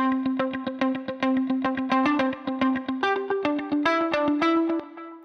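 A MIDI guitar run through an amp simulator, heavily processed with distortion and chorus, plays a rhythmic repeated-note riff, steady and loud with no voices.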